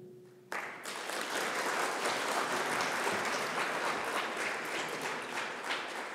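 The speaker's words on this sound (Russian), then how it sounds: "Бурные аплодисменты, спасибо за такие теплые слова" A ceremony audience at the Heraldic Council awards in Tatarstan bursts into loud, sustained applause after a short low tone, many hands clapping steadily and densely for several seconds without any voices.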